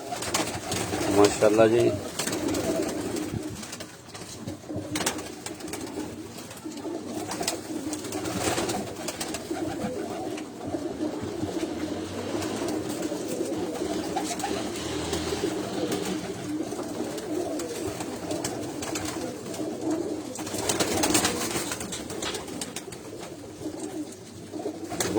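Pigeons coo on a rooftop in Rawalpindi, a steady, soft, throaty murmur that runs throughout, with someone speaking briefly over the birds.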